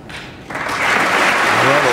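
Applause from the crowd at a UK Masters snooker semi-final between Judd Trump and Neil Robertson, soft clapping that swells into a steady, broad patter and continues to the end.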